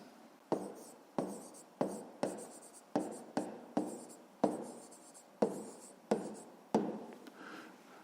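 Close, soft pen strokes on paper while working a fifth-grade maths problem, about a dozen short scratches in an irregular rhythm with small gaps, no voices.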